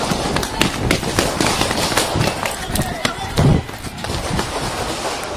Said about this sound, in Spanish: Están echando tiros.